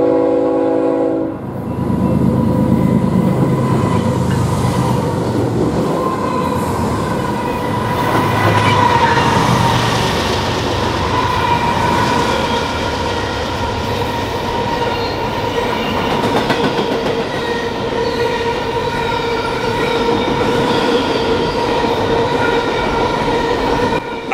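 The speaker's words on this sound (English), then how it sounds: "Up next came this intermodal with a nice surprise from back home on the point. Three Norfolk Southern locomotives" A BNSF intermodal freight train led by three Norfolk Southern locomotives, an ES40DC, a C44-9W and an AC44C6M, rolls past on the Marceline Subdivision at La Plata, Missouri, with a loud sustained rumble, a sounding horn and rail noise throughout.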